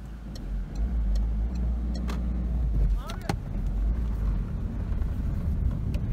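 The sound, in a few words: car passing by on the road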